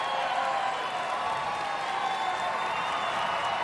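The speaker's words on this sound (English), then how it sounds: "they're cheering for all 7" A crowd cheers and applauds at the 150th Westminster Kennel Club Dog Show, a steady wash of clapping and voices filling the hall at an even level throughout, with no single voice standing out.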